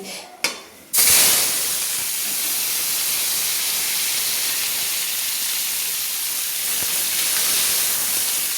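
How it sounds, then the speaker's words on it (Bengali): Potatoes dropped into hot oil, a few clinks and then a sudden loud, steady hissing sizzle that stays even and close throughout. "সেই আলুগুলো আমি ভেজে নিচ্ছি"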